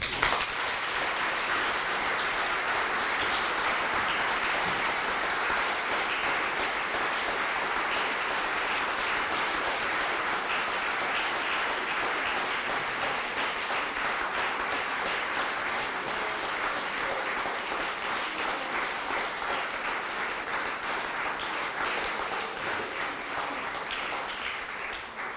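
Sustained applause from a large audience after a professorial lecture, steady and dense for the whole stretch, fading slightly toward the end.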